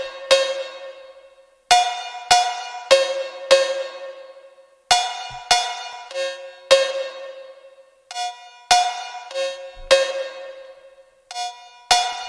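High-pitched cowbell playing a syncopated phonk pattern without sidechain, each metallic hit ringing out in full and decaying before the next, loud and repeated in clusters.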